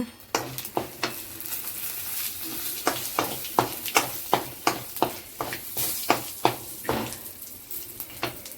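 Tempering spices sizzling and popping in hot oil for an onion chutney, with a steady fry hiss broken by a regular run of sharp crackles and spatters, close and fairly loud.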